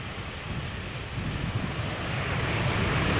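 A Boeing 747 jet approaches the Polderbaan runway at Schiphol Airport, heard as a steady, broad engine roar that swells slightly louder over a few seconds, with some wind noise and no talking.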